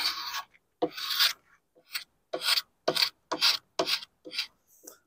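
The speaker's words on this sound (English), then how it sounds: "I like to angle the scraper too" A hand scraper works across the wooden top of a 1930s Heywood Wakefield dresser, about nine rasping strokes in a quick, uneven rhythm, close and crisp, separated by brief silences.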